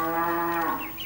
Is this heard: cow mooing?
yes